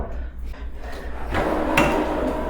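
A wooden bathroom vanity drawer in a hotel room slides open and shut nearby, a short scraping glide followed by a soft knock, with low room noise behind it.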